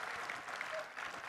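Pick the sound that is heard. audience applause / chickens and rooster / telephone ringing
audience applause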